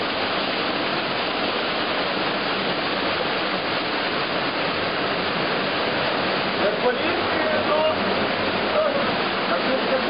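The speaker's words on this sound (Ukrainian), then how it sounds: "вода валить такий бур, бурляцький поток" Water rushes and churns in a steady, dense roar, like a strong stream pouring over a weir, at a mill stream in the Carpathians, with faint voices beneath it.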